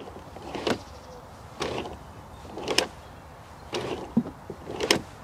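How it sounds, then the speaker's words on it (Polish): Door edge protector mechanism on a 2024 Skoda Kodiaq, extending and retracting in three repeated cycles, each a short whirring motor sound followed by a sharp clunk, close and clear with no voices. "Jest jeden problem, że mechanizm wydaje z siebie odgłos."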